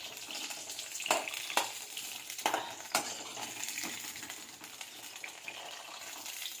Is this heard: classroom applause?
no